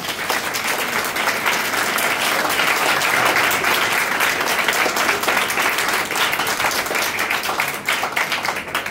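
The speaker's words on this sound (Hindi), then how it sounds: "आप जरा तालियां बजाएं खुदा के जलाल के लिए" A church congregation breaks into sustained applause, dense clapping from many hands that holds steady for several seconds, loud and close, with no voices over it.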